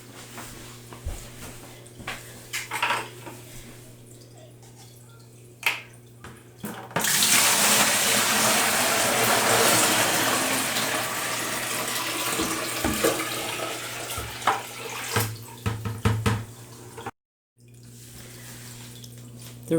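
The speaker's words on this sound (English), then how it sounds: "I'm going to put my clean water here, and wastewater is going in a white bucket" Water poured into buckets while setting up a 10-gallon fish tank: quiet handling clunks, then a loud, steady rush of pouring water that tapers into splashes and knocks.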